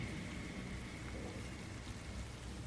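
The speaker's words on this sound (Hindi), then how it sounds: "जंगल में तेज बारिश हो रही थी, हर तरफ पानी की मोटी मोटी बूंदें गिर रही थीं।" Heavy rain pours down in a forest in a dense, continuous hiss, steady and loud throughout with no distinct drops or voices standing out.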